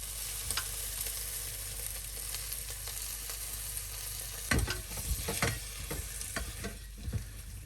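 Onion and garlic sizzle steadily in a pan as sherry vinegar is added for slow cooked pork belly, a continuous close frying hiss broken by louder bursts and stirring scrapes in the second half.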